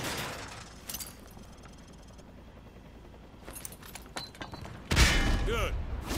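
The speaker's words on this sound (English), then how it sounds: "Toss the grenade down the range to take out several targets at once." A frag grenade explodes on a firing range in Call of Duty Modern Warfare 2 Remastered. Quiet ambience and a few faint clicks come first, then one loud, close blast near the end with a rumbling tail.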